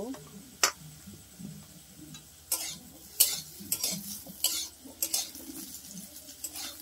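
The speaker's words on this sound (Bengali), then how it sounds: "এবার আমি আলুটাকেও নামিয়ে নিচ্ছি" Fried potatoes lifted out of a pan, a series of scraping clinks and taps of a metal spatula against the pan over a soft sizzle, while someone speaks over it.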